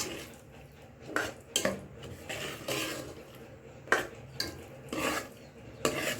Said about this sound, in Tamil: இது அப்படியே கிளறி விட்டுட்டே இருந்தீங்கன்னா இந்த சூட்லேயே அந்த வெல்லம் கரைஞ்சிரும்